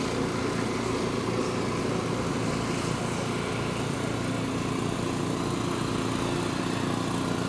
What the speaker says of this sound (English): This Predator is doing this. It's an amazing generator.